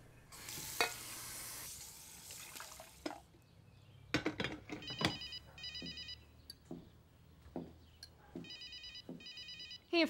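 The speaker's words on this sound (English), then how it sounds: "Hey, your phone's ringing." A telephone rings in a domestic drama scene, repeated short electronic ring bursts in pairs, moderately loud, following a burst of sizzling hiss and some clatter.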